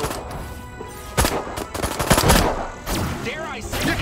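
Gunfire from the video game Destroy All Humans! (2020 remake): loud bursts of rapid shots with sharp cracks, mixed with other game sounds.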